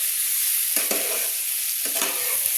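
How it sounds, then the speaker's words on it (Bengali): Spices sauté in oil with flat beans, potato and eggplant for a fish-head curry, a soft steady sizzle broken by two bursts of scraping stirring, close and alone. "শিম আলু বেগুন সবজির সঙ্গে এবং তেলের সঙ্গে মশলাগুলো সুন্দর করে আমি কষিয়ে নিচ্ছি"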